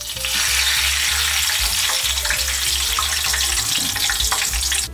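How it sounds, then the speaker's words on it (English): Pork belly pieces, lowered skin side down into hot oil for deep frying, give off a loud, continuous, close bubbling sizzle that holds steady throughout. "We are now gonna add the pork belly to the oil, skin side down"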